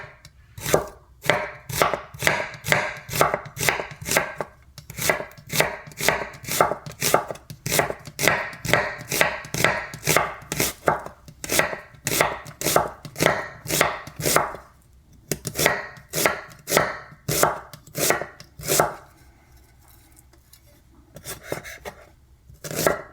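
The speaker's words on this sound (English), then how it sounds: "thinly slice the onion and cutting it across the grain this way" A knife thinly slices an onion across the grain on a board, producing quick, regular crisp chops in a steady rhythm, close and clear, with a brief pause before the cutting resumes.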